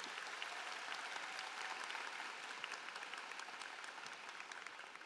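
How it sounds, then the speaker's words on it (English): An audience at a school commencement ceremony gives a round of applause for an assistant principal, a steady wash of many hands clapping that slowly eases toward the end, heard from a distance. "You can give her a round of applause"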